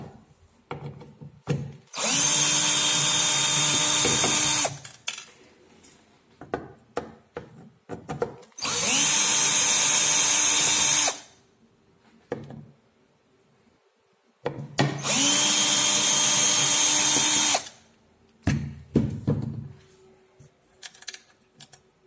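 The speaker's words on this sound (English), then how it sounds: "that will lift up the lid and cut away the glue" A power tool cuts away the glue sealing the lid of a Bosch EDC17C19 ECU from a Vauxhall Insignia, whining loudly in three long, even bursts of about three seconds each, with scraping and clatter between them.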